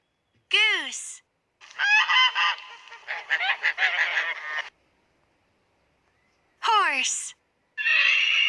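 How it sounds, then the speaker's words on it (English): Goose honks alone in clear, loud bursts: a pair of descending calls, then a longer rapid string of cackling honks, a pause, and two more short honks near the end. "Goose."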